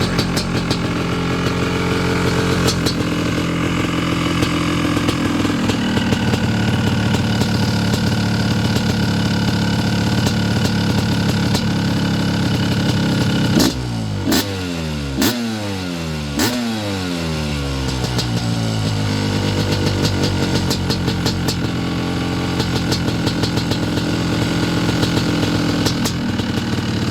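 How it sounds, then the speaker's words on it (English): A Honda CR500 two-stroke dirt bike engine runs at a loud, buzzing idle close by, then revs hard several times in a row with sharp rising and falling sweeps before settling back to a steady drone, with no voices. "listen to the CR500 in his memory"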